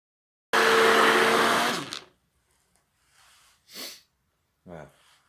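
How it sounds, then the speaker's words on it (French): A blender whirs through a soap mixture made from recycled oil: one loud, steady motor burst of about a second and a half, then near-quiet with a few faint, brief sounds. "On voit tout de suite l'effet que ça fait, le mixeur sur le mélange."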